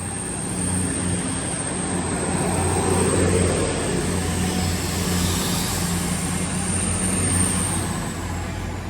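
An East Midlands Railway class 222 diesel unit, 222.102, arriving at a station on a Sheffield to London St Pancras service, with a steady loud engine drone and rumble and a high whine sustained throughout, no talk.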